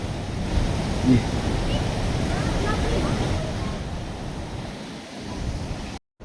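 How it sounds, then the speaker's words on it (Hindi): Saraswati river rushing loudly below the path at Mana village near Badrinath, a steady broadband roar of water with wind across the microphone, continuous and fairly close, cutting off abruptly at the end. "ये नीचे सरस्वती नदी बह रही है, आवाज़ सरस्वती नदी बहुत ज़्यादा करती है"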